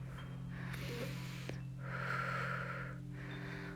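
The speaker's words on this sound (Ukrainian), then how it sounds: "Тут дихаємо, не затримуємо дихання." Breaths during a calming evening yoga practice come in a few soft, close exhales and inhales over a low steady hum, with one brief sharp intake in the middle.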